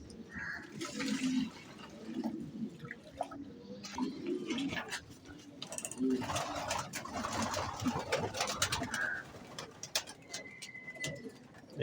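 Pigeons coo softly in a loft where drinking water has just been set out. A few low, rounded coos come at intervals over light splashing and rustling.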